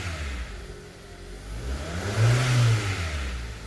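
The engine of a 2012 Hyundai Accent, fitted with direct injection, rises and falls in a moderate rev from idle, its low hum swelling to a peak and easing back, heard close without talk.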